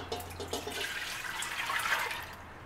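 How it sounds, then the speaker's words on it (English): Homemade wild blackberry juice pours from a container back into a pot, a close, steady liquid splash and trickle lasting a few seconds, with no talking. "Okay, so now I'm ready to put my juice back in my pot."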